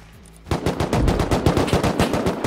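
Automatic gunfire in the video game Rust, a rapid burst of about twenty loud, evenly spaced shots that starts after a brief quiet lead-in and continues to the end, with no voices.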